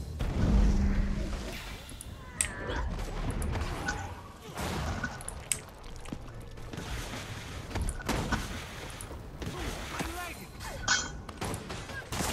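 Gunfire in the fantasy online game Guild Wars 2, a thief unloading a barrage of bullets into a pulled group: dense, continuous volleys of shots and thumps mixed with other combat effects over most of the span.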